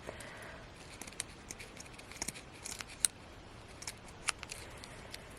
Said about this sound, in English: we're just trimming off the extras with our scissors, so just be careful